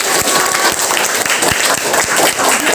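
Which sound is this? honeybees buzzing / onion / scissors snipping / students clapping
students clapping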